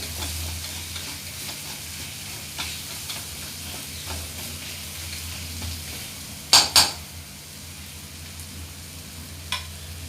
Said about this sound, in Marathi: कांदा आपला आता व्यवस्थित भाजून झालेला आहे